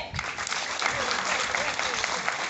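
Crowd at a widows' foundation gathering in Abrass breaks into sustained, dense applause, clapping steadily throughout with some voices mixed in.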